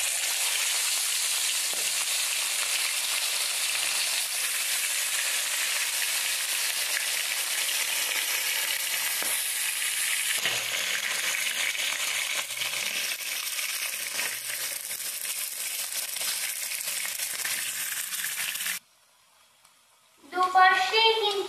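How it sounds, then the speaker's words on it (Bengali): Snakehead fish pieces frying one at a time in hot oil in a kadai, giving a loud, steady close sizzle for most of the stretch before it briefly cuts out and a voice speaks at the end. "এখন আমি মাছগুলোকে ভেজে নেব একটা একটা করে"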